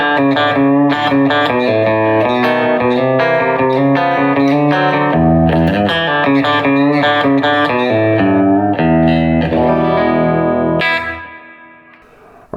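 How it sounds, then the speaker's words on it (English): An electric guitar plays a melody through an old Deluxe Reverb amp with a compressor and Strymon delay, giving loud, sustained notes with echoing repeats and trailing reverb before fading near the end. "see it live with this guitar through my old deluxe reverb with I think I've got a compressor and a Strymon delay on"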